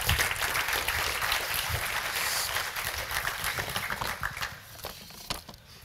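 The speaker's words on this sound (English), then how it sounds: "we can still give them some applause" An audience at an awards ceremony applauds in a dense, fairly distant wash of clapping that holds steady before thinning out and fading near the end.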